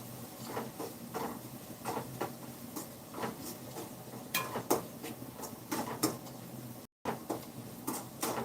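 Cauliflower gravy sautéed in a pan over low heat, with soft, intermittent clinks and scrapes of a spatula against the pan and a faint sizzle, quiet and close.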